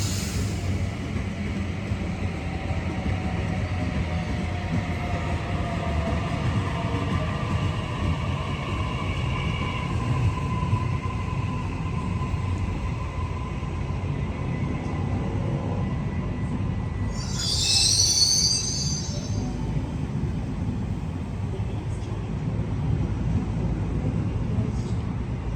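A Sydney Trains six-car Mariyung set pulls away from a station, its steady rumble and gliding tones joined by a brief high wheel squeal midway through, all under continuous platform noise.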